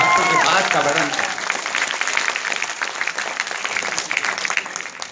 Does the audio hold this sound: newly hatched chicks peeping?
no